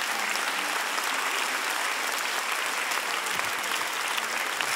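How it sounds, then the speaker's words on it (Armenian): Audience applause fills a live concert venue, a dense, steady wash of clapping that holds at full level for the whole stretch with no talking. "եկեք ծափարենք"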